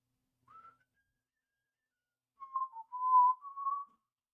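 Someone whistles into a microphone: a short faint note, a pause, then a longer wavering run of several tones, thin and isolated against silence.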